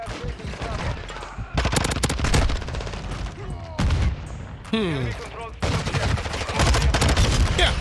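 Bursts of video game gunfire in Modern Warfare 2, several rapid automatic volleys separated by brief pauses, loud and close, with some voice activity mixed in.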